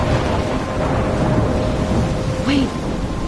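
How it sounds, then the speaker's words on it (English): Thunderstorm ambience from the video game Life is Strange, a steady dense wash of rain and storm rumble filling the whole stretch, with a brief rising tonal swoop near the end. "In a storm?"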